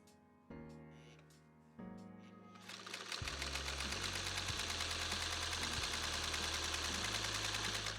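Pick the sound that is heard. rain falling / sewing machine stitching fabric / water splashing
sewing machine stitching fabric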